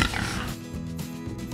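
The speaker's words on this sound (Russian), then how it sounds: "Это свинья. Она хрюкает." A pig grunts and oinks in short, low snorting bursts, fairly close and clear, with no talking.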